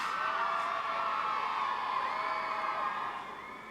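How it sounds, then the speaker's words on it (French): A crowd of characters cheers in a hall in a Harry Potter video game, a loud, steady roar of voices with rising whoops that eases off in the final moments. "Des acclamations de la part de tous les gens présents dans cette salle."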